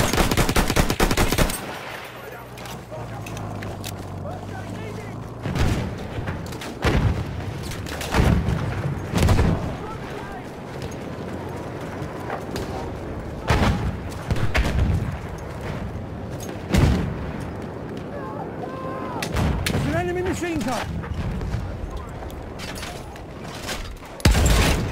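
Repeated gunfire crackles through a Battlefield 1 match: sharp close shots and bursts at irregular intervals over a constant rumble of battle, with a few deeper booms.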